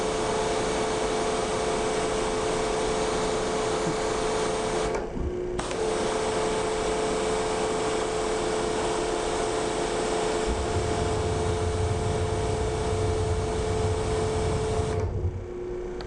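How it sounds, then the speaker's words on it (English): Burner on a pressure washing machine igniting and running, adding a low roaring rumble on top of a steady loud mechanical drone with tonal hums, after brief dips in the machine noise. "look at the burner and listen to it, you'll hear it ignite"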